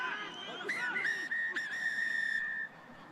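A referee's whistle at a Rugby Europe Super Cup match between Lusitanos and Castilla y Leon Iberians blows several sharp blasts, then one long sustained shrill tone, heard moderately close over crowd and commentary.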